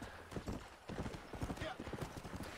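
Horse hooves clip-clop in a steady, even trot in the Red Dead Redemption video game, quiet and close, while someone talks over the hoofbeats.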